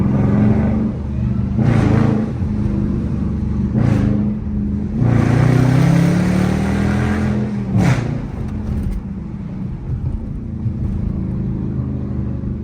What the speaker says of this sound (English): do a POV drive in the hood with a Hellcat